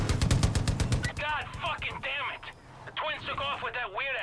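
Gunfire in Far Cry New Dawn: a rapid burst of automatic shots up front, then scattered game sounds and warbling tones while someone talks over it.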